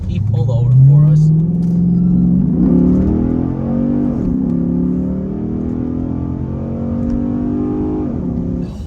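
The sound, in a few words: Chrysler 300 SRT8 accelerating hard to pass a truck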